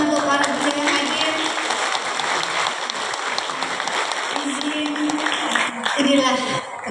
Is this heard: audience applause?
yes